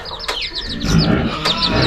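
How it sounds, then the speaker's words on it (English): Bantam rooster and chickens on a snowy Tennessee homestead give short, high chirping clucks in a quick repeating series, with a few sharper calls over steady low rumbling background noise. "Look how pretty that little rooster is, guys."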